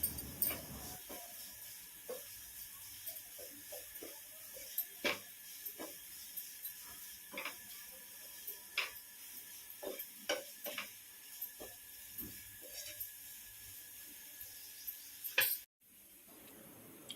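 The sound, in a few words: stirring fried Maggi noodles with Maggi masala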